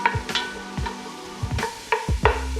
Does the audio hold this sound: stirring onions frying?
yes